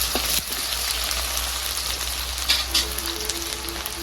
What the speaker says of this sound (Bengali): আদা রসুন হালকা ভেজে নেব।